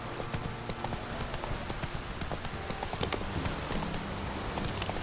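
Roach, a horse in The Witcher 3, gallops with steady clip-clopping hooves heard close and continuous throughout, over a busy game soundscape.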